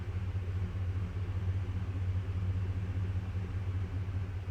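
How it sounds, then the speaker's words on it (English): Ford Super Duty pickup with a 6.2L or 7.3L engine and an MBRP 4-inch single cat-back exhaust idling steadily, a deep even rumble close by with no talking. "let the truck idle down. Oh yeah, it idles down real nice."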